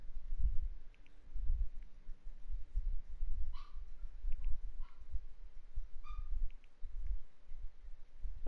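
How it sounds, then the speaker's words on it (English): Dogs bark in short, sharp bursts a few times indoors, somewhat distant, over a low rumbling background hum. "I hope my dogs don't start barking because I just brought them in."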